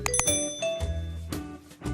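A bright, short notification bell chimes with a ringing tone, heard alone over a brief musical sound-effect cue.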